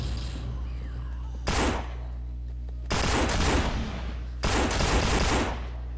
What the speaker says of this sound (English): I'm going to need you to shoot these zombies the minute they start coming through the door